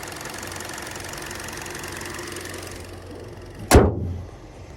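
The 2.0-liter four-cylinder engine of a 2025 Kia K4 idles steadily at close range, a smooth even hum, until a sharp thud like a door shutting near the end.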